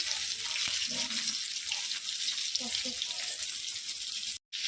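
Pomfret fish fries in very hot oil on a griddle, a steady broadband sizzle filling the clip, close and fairly loud, with faint low voices or clatter beneath and a brief cut near the end.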